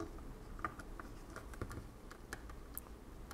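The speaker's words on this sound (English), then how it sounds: "just tap it down gently, make sure that all the buttons are in their holes" Light plastic taps and clicks as the keyboard of a Sharp PC-1246/1247 pocket computer is pressed down into its case so the buttons seat in their holes, a scatter of small close taps over quiet room noise.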